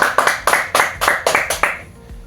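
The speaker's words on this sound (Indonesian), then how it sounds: "Tepuk tangan untuk temannya" A classroom of students claps for a classmate in a short burst of about eight sharp, fairly close claps in quick rhythm, trailing off at the end.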